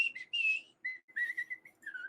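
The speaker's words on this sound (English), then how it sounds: "I whistle sometimes just to keep it moving" One person whistles a short, lively tune close up, the phrases broken by brief gaps, with a faint low hum underneath and no talking.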